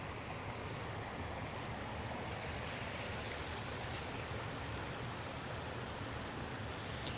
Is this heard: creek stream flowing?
yes